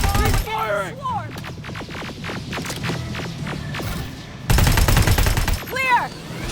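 Rapid bursts of automatic gunfire in Terminator: Resistance, sharp cracks in quick rhythmic volleys during a firefight, with shouted voices over and around the shooting.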